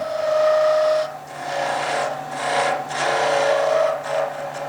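A hand file rasps back and forth across a metal part, cutting a groove in a grinder build; several steady, close strokes with brief pauses between them, and no talking.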